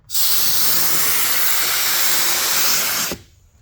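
A handheld steam cleaner bursts on for about three seconds of loud, steady hissing spray while detailing a Jeep ZJ, then cuts off abruptly, leaving quiet.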